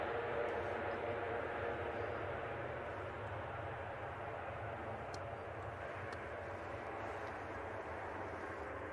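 An Emirates Airbus A380 on approach to runway 05 left at Manchester Airport gives a steady, broad engine roar held at a moderate level throughout.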